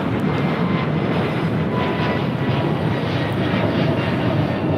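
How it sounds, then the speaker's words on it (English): A Delta Airbus A220-300 airliner takes off at LAX, heard as a loud, continuous roar of jet engines that stays steady and dominant throughout, with no voices over it. "A220-300 taking off to San Antonio"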